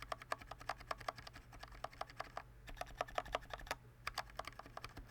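Shift and enter keys on an AJAZZ K870T mechanical keyboard pressed repeatedly at close range, making quick crisp clacks in an uneven rhythm over a low background hum.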